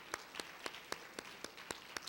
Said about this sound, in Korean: 저희들이 한번 환영의 박수 올리기 원합니다